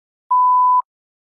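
A single clean electronic tone marking the start of response preparation time in a TOEFL speaking practice test, a steady half-second beep alone in silence.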